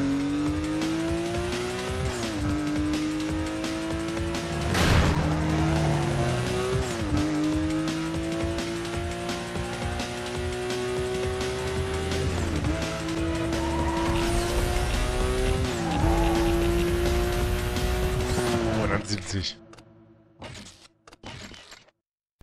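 A Lamborghini races in Need for Speed Most Wanted, its loud engine note climbing and dropping through gear shifts for nearly twenty seconds, with tire squeal and a crash near the end before brief, scattered impacts.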